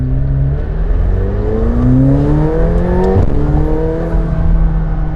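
A McLaren 720S accelerates hard, its loud, close engine note climbing steadily in pitch, then briefly breaking with a sharp gear-shift thump before it climbs again.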